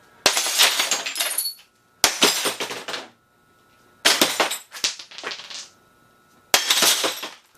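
Rocks hurled against window glass covered in hurricane tape, giving four loud separate impacts, each a sharp crack followed by a clattering, glassy rattle that fades before the next strike.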